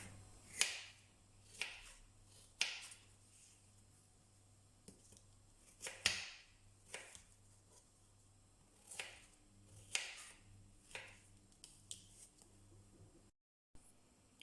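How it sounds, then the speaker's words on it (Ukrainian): Peeled pears chopped on a board with a knife for a caramelized pear and nut cake, a dozen or so sharp, close knife taps at a loose uneven rhythm over a faint steady hum. "Почищені груші кришимо на невеличкі кусочки."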